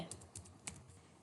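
Keystrokes on a computer keyboard while entering Python code, a few quiet, irregular clicks with low room noise and no speech.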